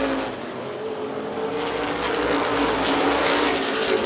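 Modified race cars roar around Springport Mid-Michigan Speedway at a C-feature event, a steady, loud engine drone that swells as the pack exits a turn, with no voices.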